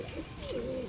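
A Punjabi Malwai pigeon gives a single soft, close coo, a short throaty call rising and falling with no talk over it.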